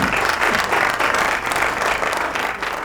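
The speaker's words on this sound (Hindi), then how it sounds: "तालियां हो जाएगी इनके लिए।" An audience applauds a correct answer in a Ramadan quiz competition, a dense, steady burst of clapping from many hands that holds for a few seconds before easing slightly.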